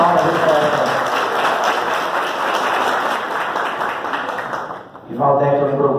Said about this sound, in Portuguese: Salve, palmas do coração.